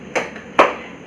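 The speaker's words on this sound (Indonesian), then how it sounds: "Tepuk semangat." A class of schoolchildren performs a rhythmic spirit clap, with two distinct clap bursts about half a second apart, fairly close and moderately loud, with no talking.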